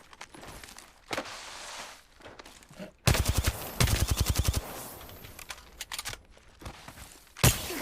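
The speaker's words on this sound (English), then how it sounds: "Opening fire. Getting shot at." Video game gunfire: a sudden burst of rapid automatic shots up close, followed by scattered single cracks and footsteps, with quieter stretches of game noise before it.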